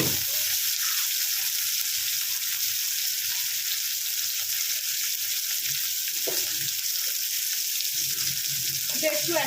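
Hilsa fish pieces fry in a hot pan, giving a steady, close, loud sizzle that holds for the whole stretch, with a few faint clinks of utensils and no one talking.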